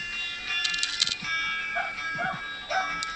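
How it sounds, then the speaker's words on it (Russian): A dog in the mobile shooter game Standoff 2 gives a few short, sharp barks, moderately loud over a steady background hum of game sound. "Там собачка гавкает."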